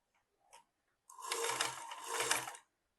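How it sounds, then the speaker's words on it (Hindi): A sewing machine stitches the center seam of a baby elastic frock in two close, loud bursts with a brief pause between, preceded by a faint click. "ऐसे करके बीच सेंटर में सिलाई मार दूंगी।"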